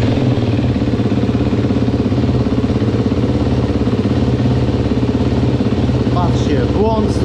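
A motorcycle engine idles steadily after an oil service, a close, loud, even mechanical chug with light clatter running throughout, and a brief whistle-like sound joins in at the very end.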